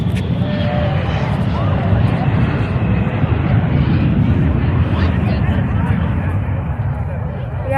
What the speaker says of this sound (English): we had a plane just fly off